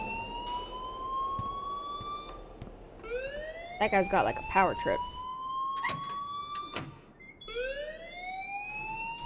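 An alarm in the video game Life is Strange wails in long rising and falling electronic tones, repeating across several seconds under game characters' speech and a few sharp clatters.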